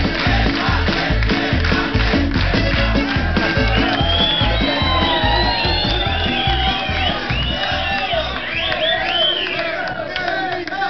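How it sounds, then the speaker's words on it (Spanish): A studio audience on the talk show José Luis sin censura cheers and whoops for Teresa, a loud, dense crowd roar with shouts and high whistles that holds steady for the whole stretch, with no one speaking over it. "Un aplauso para Teresa del lado de las nacas."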